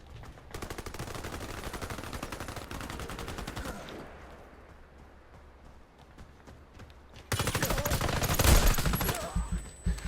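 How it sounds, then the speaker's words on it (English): Rapid automatic gunfire from a fast-firing gun in the shooter game Warface: Breakout, a dense stream of shots for several seconds, a quieter gap, then another loud burst. "this gun does shoot really quickly"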